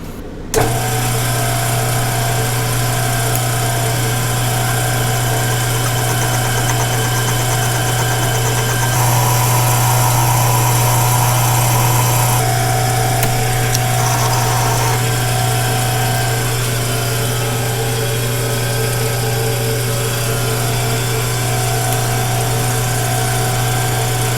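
A metal lathe cuts a thick-walled steering bushing for a 1942 Farmall H tractor. Its motor drones loud and steady for the whole stretch, and the tone shifts slightly for a few seconds partway through as the cut continues.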